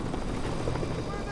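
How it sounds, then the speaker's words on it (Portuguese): A rescue helicopter tries to hover over a mountain in strong winds, its rotors a continuous rumbling drone. A voice talks over it throughout. "assim que o helicóptero tenta pairar sobre o local, é afastado pelos ventos fortes da montanha"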